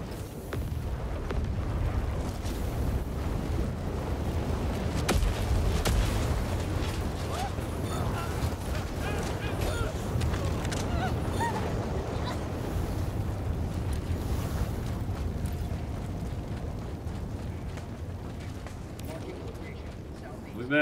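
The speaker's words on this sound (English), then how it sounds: "Calling down a support weapon." A support weapon drop is called down in Helldivers 2, bringing a continuous heavy rumble of booms and mechanical clatter that fills the whole stretch, with voices mixed into the din.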